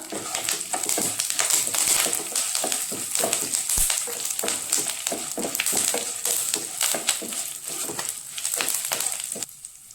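Dried red chilies, curry leaves and slit green chilies frying in hot oil for lemon rice, a dense continuous crackling sizzle with rapid spattering pops and occasional stirring scrapes, close and steady throughout, with no talking.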